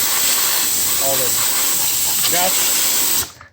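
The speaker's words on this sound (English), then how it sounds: "Need a compressed air. Just go and blow it around." A compressed-air nozzle blows dust off a truck's fuel filter cap on a RAM 5500 6.7 Cummins, giving a loud, steady hiss that runs throughout and cuts off at the end, with a couple of faint voiced sounds underneath.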